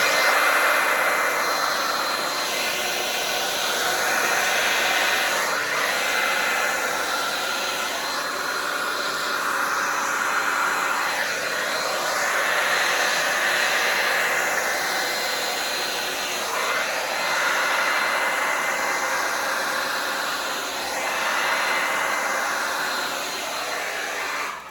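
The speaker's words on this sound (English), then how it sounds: "Get my hair dryer." A hair dryer blows steadily at close range, a loud continuous airy whoosh with slight shifts in pitch as it moves, no talking.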